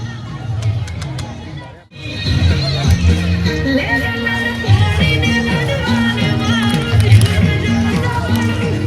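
Crowd of pilgrims at Ambaji, loud continuous babble of many voices with music-like tones mixed in, briefly dropping out before resuming.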